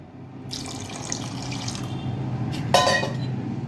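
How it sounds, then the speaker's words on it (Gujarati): Water pours steadily into a pot of horse gram curry close by, a continuous splashing trickle that briefly grows louder near the end. "થોડું પાણી એડ કરી દઈએ"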